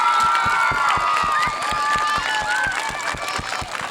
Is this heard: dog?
no